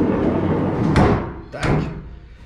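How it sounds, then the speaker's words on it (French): A door bangs twice against a homemade door stop, two sharp, close thuds about half a second apart over a low hum, the second a little softer. "Donc j'ai fait une butée pour la porte."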